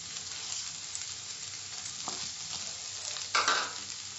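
Red chili powder and Kashmiri chili powder sizzle in hot oil for an Andhra-style boiled egg fry, a soft steady frying hiss with light stirring scrapes and a sharper flare near the end.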